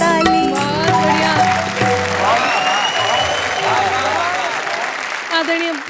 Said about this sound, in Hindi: बजाओ मिलकर ताली